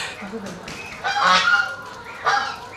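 Ducks honk loudly nearby on a farm, a few nasal calls in quick succession with short pauses between them.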